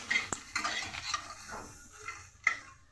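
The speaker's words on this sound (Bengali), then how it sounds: "কাঠখোলায় এগুলোকেও হালকা ফ্রাই করব" Chicken ingredients being lightly dry-fried in a dry pan, a quiet sizzle broken by irregular scrapes and clinks of a utensil stirring against the pan, no one speaking.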